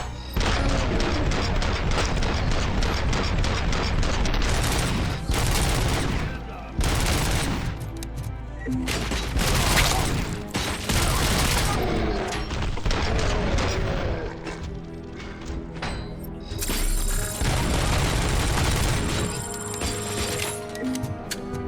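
Heavy gunfire from enemies firing armor-piercing ammunition in the video game RoboCop: Rogue City, dense rapid volleys and bursts through most of the stretch with brief lulls, with someone talking over it.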